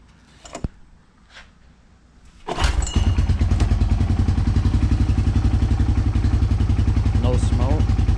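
Pull-started motorcycle engine with the choke off, catching at once and settling into a loud, steady, close idle with rapid even pulses and some mechanical clatter.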